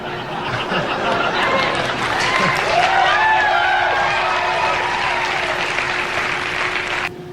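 A studio audience reacts to a comedy news-desk joke with a steady wash of clapping and crowd murmur, some scattered whoops and jeers mixed in, loud and sustained for about seven seconds before cutting off.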